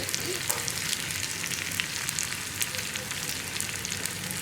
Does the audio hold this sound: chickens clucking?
no